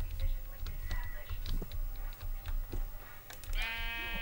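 Sheep bleating in Minecraft, a few short blocky bleats near and clear over a busy game background, with a brighter harmonic bleat toward the end.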